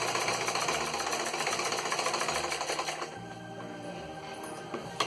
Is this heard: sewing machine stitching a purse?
yes